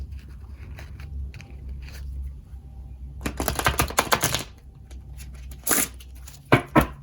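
A rapid flurry of papery riffling and crackling as tarot cards are shuffled close up, in a couple of bursts with quieter handling between.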